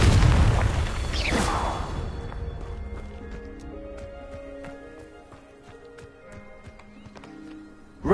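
A Confringo spell blast in Hogwarts Legacy booms loudly at the start and rumbles away over two seconds, followed by quieter scattered game clicks and tinkles, ending with a sudden sharp hit.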